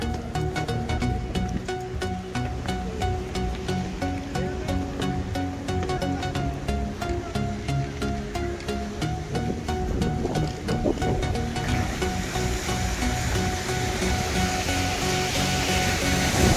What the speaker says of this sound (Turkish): Suyun sesine bak ya.